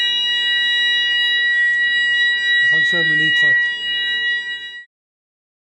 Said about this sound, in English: We'll let it run through the sequence because I want to show you how to deactivate the system accordingly